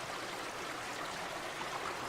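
A stream of flowing water gives off a continuous, even rushing wash, moderately faint and alone, with no distinct splashes.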